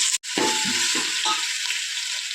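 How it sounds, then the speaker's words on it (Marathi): Ginger garlic paste hits hot oil in a pot for pav bhaji, setting off a loud, close, continuous sizzle with a few bubbling spurts near the start and no talking. "आता आपण पातेल्यात तेल घेतलेलं आहे, त्याच्यात अद्रक लसूण पेस्ट टाकायची."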